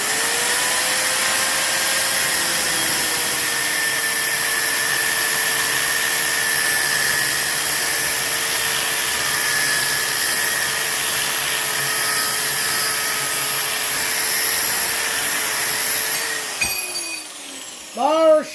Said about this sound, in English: We'll use our corded angle grinder with our 1mm cut-off disc once again.